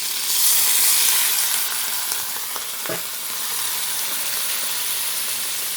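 Crab stir-frying in a home kitchen pan, a continuous loud sizzle with light stirring scrapes and a brief clunk midway, and no voices.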